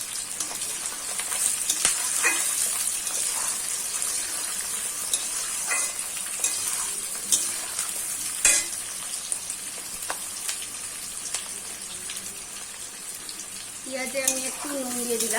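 Chopped onion sizzles in hot oil for mutton kosha, a continuous, close, crackling fry with occasional clinks and scrapes of a stirring utensil in the pan.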